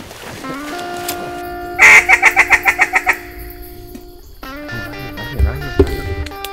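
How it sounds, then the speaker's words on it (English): A teal duck call being blown, a quick series of sharp rhythmic reedy quacks close by, among other mixed outdoor calls and a low rumbling engine. "You need to get your teal call out. There you go. You hear the nice rumbling now"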